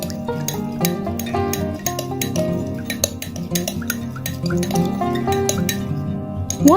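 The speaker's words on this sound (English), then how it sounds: "Now we need to mix well all the ingredients until they combine and get very well mixed together." A spoon stirs aloe vera gel and other lip-remedy ingredients in a bowl, giving a run of quick, close clinks and scrapes against the bowl in an uneven rhythm, with no talking.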